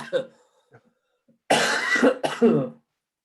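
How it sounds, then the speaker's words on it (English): Someone coughs twice in quick, harsh bursts at close range after a few faint, scattered sounds. "I'll try and mute you so you don't hear me coughing."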